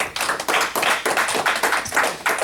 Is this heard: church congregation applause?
yes